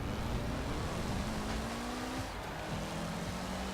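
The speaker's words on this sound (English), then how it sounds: "There's a hell of a lot of turbo noise in this car." Mitsubishi car in Forza Horizon 4 with heavy turbo noise, a quiet continuous engine drone with whistling tonal sweeps rising and falling over it, mixed with game music and no talk.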